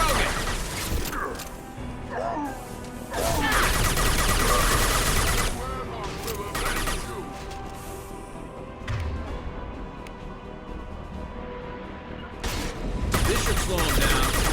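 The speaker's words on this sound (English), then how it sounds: "Firing a high impact shot!" Gunfire and heavy impact blasts from Mass Effect 2 combat against a Krogan, with repeated bursts and crashes over a steady game soundscape and some voices.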